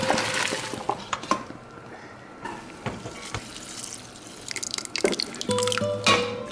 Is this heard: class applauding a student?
no